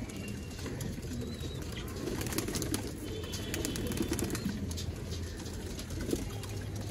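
Domestic pigeons cooing in a loft, soft repeated low coos over a faint background hiss with a few light rustles and flutters, no voices.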